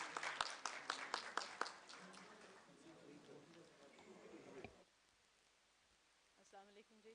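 At an international Punjabi conference, a handful of sharp, sparse audience claps ring out briefly at the start, then give way to someone talking, with a quiet pause and more speech near the end.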